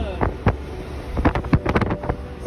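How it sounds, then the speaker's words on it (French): Strong wind buffeting a van on a coastal road drive, a steady roaring rush with gusty bumps and thuds over engine rumble, while a person talks briefly. "Et c'est hyper venteux, hein."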